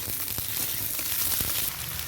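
Capsicum, cauliflower and carrot sizzle steadily in hot mustard oil for chowmein, with a dense continuous hiss and a few soft knocks from stirring, close and alone.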